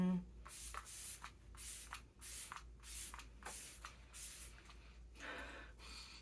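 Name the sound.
makeup setting spray being sprayed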